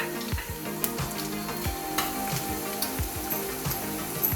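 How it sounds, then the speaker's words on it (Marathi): Garlic and fresh coriander fry in hot oil for a tempering, a continuous close crackling sizzle with soft clinks and scrapes of a stirring spoon, no voices. "फोडणीला ही थोडीशी कोथिंबीर। बघा कोथिंबीर घातल्यावर कसं एकदम मस्त हे होत आहे"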